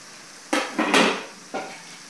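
A spatula stirs grated potato in a pan for an egg-and-potato chop, giving three short scraping strokes with brief pauses between them, close and fairly loud.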